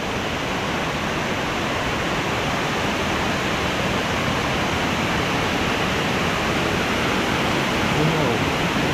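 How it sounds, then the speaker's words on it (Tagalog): Powerful waterfall roaring with dense, steady rushing noise that fills the whole stretch, loud and unbroken, with no pauses or gaps. "Ang lakas ng falls."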